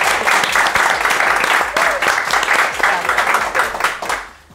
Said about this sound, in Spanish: No, se merece el aplauso.